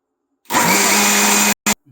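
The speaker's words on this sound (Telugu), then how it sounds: "ఇప్పుడు మిక్సీ పట్టేసుకున్నాం" A mixer grinder whirs loudly at close range for about a second, grinding chutney, stops, then gives one short burst before falling silent.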